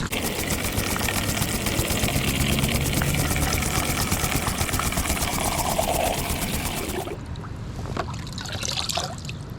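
A match reel with an Aero XR spool winds on 150 metres of 0.20 fishing mainline, giving a fast, steady, close ticking whirr that runs evenly for most of the clip, then stops abruptly near the end.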